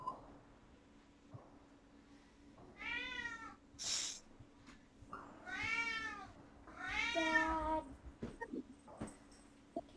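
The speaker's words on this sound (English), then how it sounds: "I keep thinking, oh, that poor cat." A cat meows several times in drawn-out, wavering cries, loud and close, with short pauses between calls and a faint low hum underneath.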